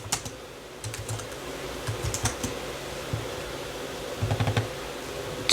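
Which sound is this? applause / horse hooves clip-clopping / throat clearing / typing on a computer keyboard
typing on a computer keyboard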